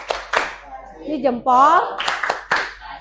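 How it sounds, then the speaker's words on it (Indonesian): A group of young children in a kindergarten class claps a short cheering rhythm in a few sharp bursts, mixed with a voice and an adult talking. "Untuk kelompok B, berikan tepuk hebatnya."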